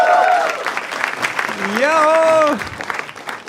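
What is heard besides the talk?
audience applauding for the panel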